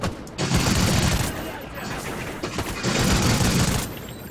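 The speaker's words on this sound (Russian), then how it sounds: "Да вы что ж так мощно стреляете?" Gunfire in the video game Call of Duty: Ghosts, two loud sustained bursts of rapid shooting with a quieter gap between, while a player talks over it.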